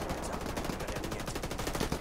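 Rapid automatic gunfire in a tactical shooter video game rattles steadily throughout, a dense stream of shots at moderate loudness with no talk.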